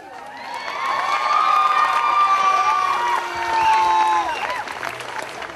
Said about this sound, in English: this town has come out to cheer for our team